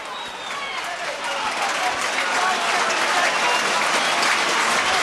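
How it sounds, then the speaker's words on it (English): Rugby league home crowd of Rovers supporters cheering and applauding at a 1991–92 match against Widnes, a dense, steady roar of clapping and shouting that holds loud throughout the clip. "But the Rovers crowd really getting behind their team."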